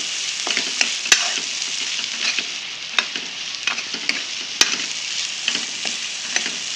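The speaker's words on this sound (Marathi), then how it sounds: "चांगलं परतून घेते।" Ground masala of onion, ginger, garlic, green chili and coriander sautéing in a pan for sev bhaji, with a constant close sizzle and frequent sharp clicks and scrapes of stirring, and no one speaking.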